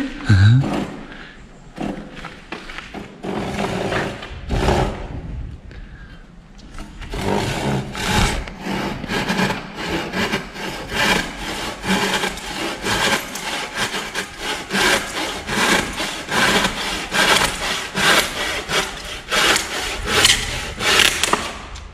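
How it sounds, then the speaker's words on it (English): A hand saw cuts through a wooden batten inside a barn, rapid rhythmic rasping strokes running steadily for most of the stretch after a few hesitant starts, close and fairly loud. "Nettie's now just cutting a bit of batten"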